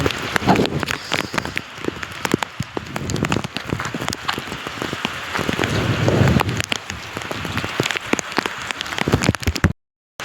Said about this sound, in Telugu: వర్షం అయితే చాలా పెరుగుతుంది.